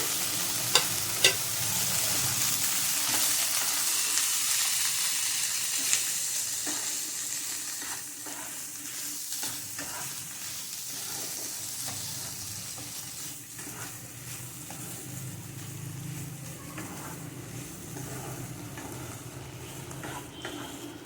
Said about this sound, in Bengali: এবার আমি এর মধ্যে দিয়ে দেব পনিরটা